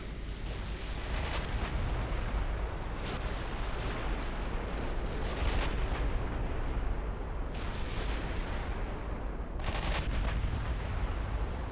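Naval guns firing in the warship game Ultimate Admiral Dreadnoughts, with heavy rumbling salvos and booms over a steady dense roar of battle noise, repeated bursts spread across the whole stretch.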